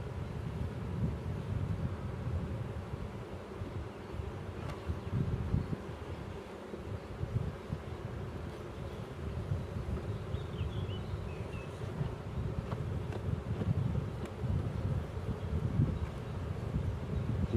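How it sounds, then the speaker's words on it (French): Honeybees in a hive swarm, a faint, steady low buzzing hum that continues unbroken throughout, close by and with no voices. "il y a plein d'abeilles au fond, il y a plein d'abeilles sur le côté."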